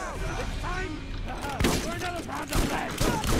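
Explosive shotgun fire in the Borderlands video game, rapid bursts of blasts that crowd together into a dense fusillade, loud and continuous, with several heavier booms.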